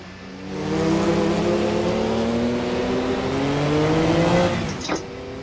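Car engine in Assetto Corsa revs up steadily, a loud rising whine holding for several seconds before a quick shift or lift near the end.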